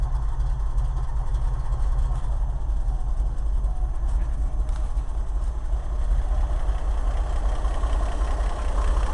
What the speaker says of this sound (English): It's a good old engine.